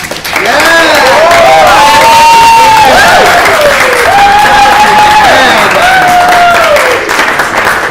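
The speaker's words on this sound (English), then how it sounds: "a big, big round of applause to our Ent staff" A ceremony crowd gives a sustained, loud round of applause mixed with cheering for course staff at a certificate presentation, with voices and tonal whoops rising over the clapping throughout.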